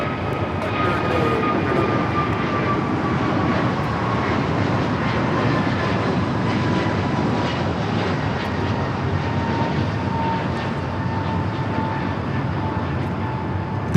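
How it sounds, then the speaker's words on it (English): An American Airlines Airbus A321neo departs Los Angeles LAX for Miami, its engines giving a sustained loud roar with a faint high whine sliding gradually downward throughout. "This is American Airlines 2311 taking off to Miami, Florida on the A321neo."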